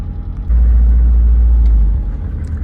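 A Subaru car engine runs steadily while driving, a loud low rumble that swells briefly at about half a second and then holds, with no talk over it.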